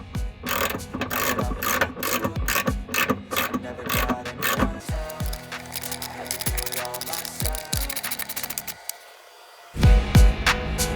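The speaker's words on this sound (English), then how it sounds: "So now we're going to go ahead and tighten those bolts." Rapid ratcheting clicks as M8 bolts are tightened on a car audio subwoofer enclosure, fast repeated bursts for several seconds, then a short silence and a final few clicks.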